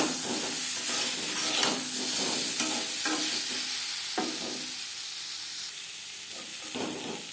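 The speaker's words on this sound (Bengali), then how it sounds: "লবণ হলুদ আলুর সাথে বেশ ভালো করে মিক্স করে দেবো।" Potatoes frying with salt and turmeric in a pan, a steady sizzle under repeated scraping stirs of a spoon, close and fairly loud, slowly settling toward a softer hiss, with no talking.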